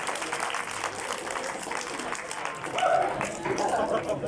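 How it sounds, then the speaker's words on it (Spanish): An audience at a school event applauds to welcome a guest author, steady scattered clapping from a crowd that builds slightly louder toward the end, with some murmuring beneath it. "démosle un fuerte aplauso de bienvenida a nuestro invitado Roger Vilar"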